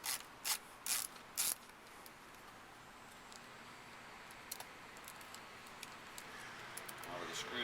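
Screws being backed out of a front Bose speaker panel on a Chevrolet Corvette: four loud sharp clicks near the start, then a low steady hum with faint scattered ticks of the driver turning.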